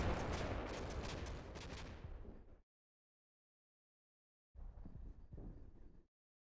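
Russian artillery fire in the Combat Mission: Black Sea war game: a loud burst of rapid cracking impacts, a sudden stretch of silence, then a second shorter burst of rumbling blasts.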